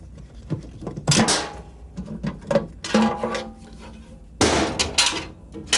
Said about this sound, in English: The first step would be to remove the pan.